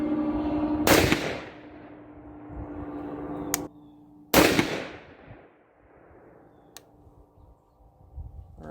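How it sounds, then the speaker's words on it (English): Two loud, sharp rifle shots from an R15 in 6.5 Grendel firing 123-grain Lapua Scenar loads, spaced a few seconds apart, each with a sudden crack that rings out and decays over an open range, with quiet gaps between. "we're going to shoot this first group"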